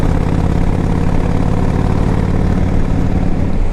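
A 2005 Yamaha Road Star 1700cc motorcycle engine runs with a loud, steady low rumble and even throb, close and unbroken throughout with no voices.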